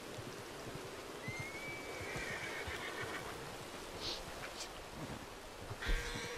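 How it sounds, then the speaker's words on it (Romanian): A horse in Red Dead Redemption 2 gives a rising whinny and a short second neigh over a steady outdoor background hiss, with a faint hoof thump near the end. "Să vină calul acum, perfect."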